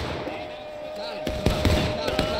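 Musket volleys crack out in a Civil War battle game, a few sharp shots popping at mid distance over a steady battlefield din, with voices talking throughout.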